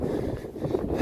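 Cold wind gusts past the microphone at 4210 m altitude on the way to Timbung Pokhari, a steady low rumbling buffet that swells slightly toward the end, with no voices.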